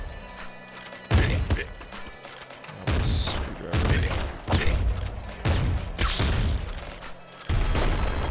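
Revolver fire in the video game Nuclear Throne comes as repeated loud, punchy shots and booms, irregularly spaced over a constant busy game soundtrack, with no talking.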